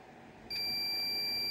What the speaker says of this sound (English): the meter beeps and I get all zeros